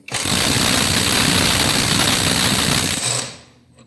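A PATUOPRO 500NM cordless impact wrench loosens a fastener at 210 Nm with a loud, continuous rattling hammer burst of about three seconds that then stops abruptly.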